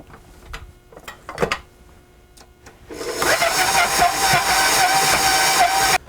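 An electric mixer creams butter and sugar at medium-high speed, starting after some scattered clinks and handling noises and then running as a loud, continuous whir close by until it stops near the end.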